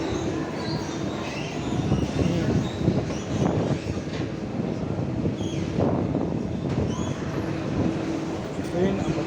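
An underground metro train in Rome rumbles steadily with rattling carriages and faint wheel squeal, while passengers' voices murmur throughout.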